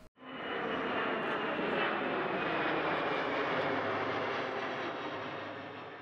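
Flight simulator Boeing 747 with GE CF6 engine sound pack, a rising turbine roar that starts abruptly and holds as a smooth, layered whine and rumble, steady and alone, fading slightly at the end.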